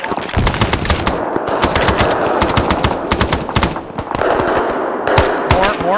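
Rapid machine gun bursts in ArmA III during a Vietnam War campaign mission, loud dense rattling fire with overlapping shots and radio-style voices speaking under it.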